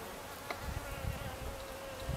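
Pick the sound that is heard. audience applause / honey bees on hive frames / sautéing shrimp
honey bees on hive frames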